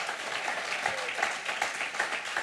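A church congregation applauding during a sermon, a steady wash of many hands clapping at moderate distance that continues throughout.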